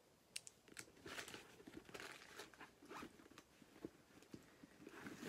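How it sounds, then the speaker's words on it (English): A zipper on a Juicy Couture mini backpack is pulled open in several quick ripping strokes, close and fairly loud, with light crinkling and rustling of the bag's contents between pulls. "And the little back zipper."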